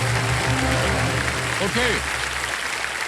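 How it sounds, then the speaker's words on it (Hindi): Studio audience applauding on the KBC game show, a dense wash of clapping over music with a brief spoken word near the middle. "जोरदार तालियां इनके लिए।"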